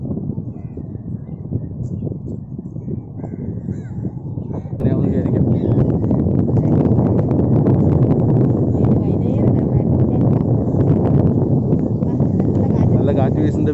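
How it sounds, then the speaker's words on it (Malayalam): Strong breeze gusting in hot sun on the waterfront at Mahe, steady wind rush that grows louder partway through and stays loud and constant to the end. "നല്ല കാറ്റ് വീശുന്നുണ്ട്."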